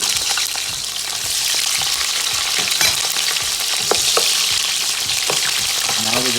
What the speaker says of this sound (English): Get it nice and hot, and then we're gonna brown onions in it.